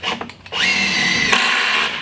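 A power drill whirs steadily for over a second while fastening a metal ceiling in a workshop under construction, preceded by a few short clunks and handling noises, close and loud.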